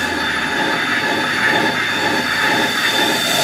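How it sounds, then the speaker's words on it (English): Train rumble and rail noise from a horror film trailer's subway train scene, a steady loud roar with faint wheel squeal running throughout, no voices. "The train scene from the teaser."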